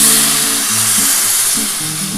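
Water hits hot frying spice masala for a potato and egg curry with capsicum, giving a loud, steady broadband sizzle and hiss that holds for the whole stretch, with low rumbling bubbling underneath.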